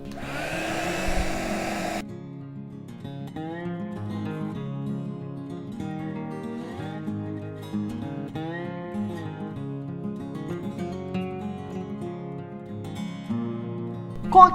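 A hair dryer blows over freshly painted imitation-leather paint on a wooden watch box, its steady loud whoosh running continuously in a short burst, then stopping while soft music plays on.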